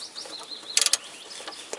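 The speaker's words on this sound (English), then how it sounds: "I use my wrench, and I insert that in here" A socket wrench with a 12 millimeter socket ratchets on an exhaust pipe bolt of a 1992–2002 Toyota Camry, giving a quick burst of close, sharp clicking amid faint background noise.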